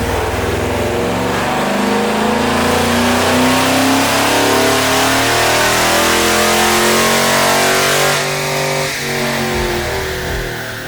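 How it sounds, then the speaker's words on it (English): A modified 5.7L Hemi V8 fitted with an aftermarket intake, headers and camshaft revs hard on a dyno, a loud, close, sustained engine roar that climbs and holds before easing off near the end, with no talking. "And back to the dyno for Vlad to dial in calibration."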